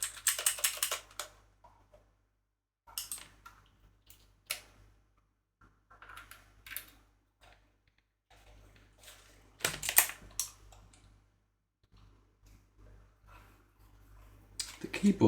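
Sparse bursts of clicky key tapping on a computer keyboard, a few quick clusters separated by long pauses, fairly close and moderately quiet, with a steady low hum underneath.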